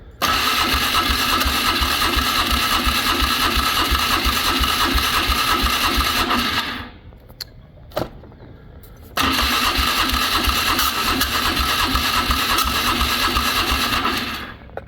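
A choked engine with the fuel on starts and runs loudly in steady pulses for several seconds, cuts out briefly after a short sputter, then fires up again and keeps running, with no talking.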